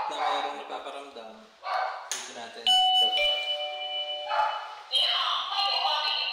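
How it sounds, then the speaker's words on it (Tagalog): A doorbell chimes with bright sustained ding-dong tones in an old mansion, ringing twice among brief voices talking nearby. "May doorbell."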